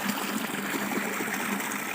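Irrigation water flows steadily through a farm channel in a continuous rushing trickle, close by, with no voices.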